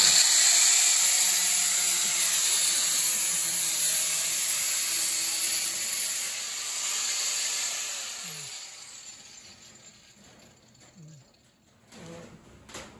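An angle grinder cutting expanded wire mesh lath for a stucco wall on a garden room build, a loud steady high whine that fades and winds down toward the end.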